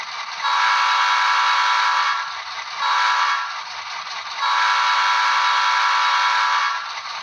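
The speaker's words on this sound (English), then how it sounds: "And then you've got your horn." Bachmann EMD F7 HO scale model locomotive in Pennsylvania livery, SoundTraxx DCC sound decoder sounding its horn: three loud sustained chord blasts, a long one, a short one, then another long one, heard alone and close.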